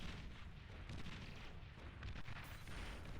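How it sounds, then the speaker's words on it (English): Anti-air flak guns firing in the real-time strategy game Beyond All Reason, a dense, continuous rumble of distant bursts and booms blending into a muffled barrage without clear separate shots. "Anti-air flak guns."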